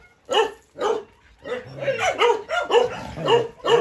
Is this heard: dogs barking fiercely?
yes